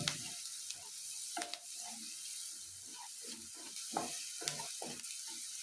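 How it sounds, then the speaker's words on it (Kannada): Salt being stirred into a sizzling onion tempering in a pan for a South Indian fenugreek-leaf and field-bean palya, with steady close frying hiss broken by repeated scraping stirs. "ಉಪ್ಪು ಹಾಕಿ ನೀಟಾಗೆಲ್ಲ ಕಲಿಸ್ಕೊಂಬಿಡಿ"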